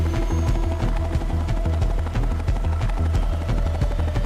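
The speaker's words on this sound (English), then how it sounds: "Oh, it's helicopters." Helicopters in the game Fallout New Vegas: a loud, continuous rotor thump with heavy low-end pulsing and engine whine, steady throughout with no talking.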